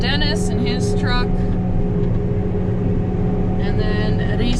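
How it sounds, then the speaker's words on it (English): A silage truck rumbles past close by during barley silaging, a heavy steady engine drone filling the clip while a person talks over it near the start and end. "And there goes Dennis in his truck."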